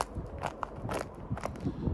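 Footsteps crunch at a steady walking pace on frozen ground in Canada, each step a crisp, gritty crackle close by, with no talking.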